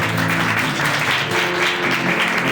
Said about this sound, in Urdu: کیا آپ کے ہاتھ تالیاں بجا سکتے ہیں؟